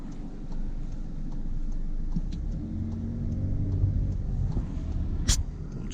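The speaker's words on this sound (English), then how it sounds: "we are doing 35 miles per hour and we are on a 5th gear" A 2016 Skoda Superb 1.6 TDI with a seven-speed DSG gearbox cruises at low speed, giving a steady low rumble of engine and road noise heard from inside the car, with a brief sharp noise near the end.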